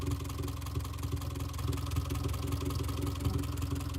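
A Subaru Forester engine idles close by, giving a steady low rumble with a rapid, even ticking from fuel injector noise running through it. No voices are heard.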